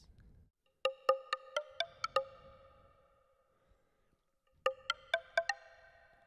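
A Zebra 2 software synth patch, played dry without effect plugins, gives two short runs of bright plucked notes, about six each, separated by a pause, fairly quiet with short ringing tails and no voices.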